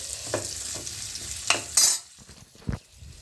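Onions fry in a pan for dal makhani, with a soft crackling sizzle and a few close clacks and scrapes of a spoon stirring, one bright hiss flaring briefly, then quieter sizzling with no talk.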